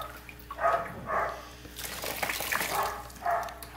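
Water is gently poured over a newborn baby during a bath, in soft repeated splashing trickles that come and go in short bursts, close by and fairly quiet.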